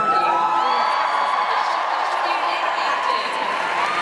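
An audience at a live event cheers and whoops loudly, a steady roar of many voices that holds for several seconds.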